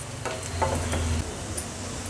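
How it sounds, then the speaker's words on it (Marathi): Whole spices and garam masala frying in hot oil over a medium flame for a Konkani raw jackfruit bhaji, a steady close sizzle with a few soft stirring scrapes and no talk. "आता हे मसाले तेलावर छान परतून घेऊया"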